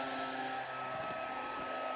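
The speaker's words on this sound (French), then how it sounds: "On entend un petit ventilateur." A small fan whirs steadily inside a rechargeable Maxesla Air Power indoor football toy, giving a continuous, even hiss and hum close by with no talk.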